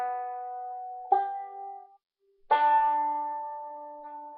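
Banjo picked in a roll pattern with thumb, index and middle fingers, heard as a few sustained plucked notes ringing out, a short pause, then a louder fresh strum of bright ringing strings, played close and alone.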